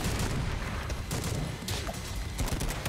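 Sniper gunfire in the shooter Madness: Project Nexus, heard as a rapid series of cracks and bangs within a busy, steady roar of combat noise. The shots are moderately loud and blend into the dense background.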